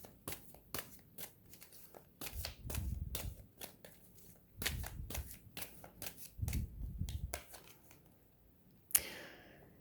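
Tarot cards being shuffled by hand, repeated crisp riffles and soft slapping bursts in uneven rhythm, close and fairly quiet, ending with a sharp snap.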